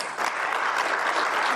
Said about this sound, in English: Now let's give a special applause for his attending.